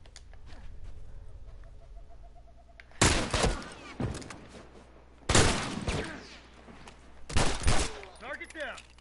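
Gunfire in The Last of Us shot through a wall: three loud, sharp bursts spaced a couple of seconds apart, each ringing out over a low background hum.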